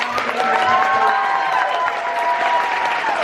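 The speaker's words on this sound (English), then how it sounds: "Please give a round of applause to everyone." An audience applauds at a horror film fest panel in Houston, a dense steady clapping from a crowd nearby, with voices and tonal chatter mixed in over a few seconds.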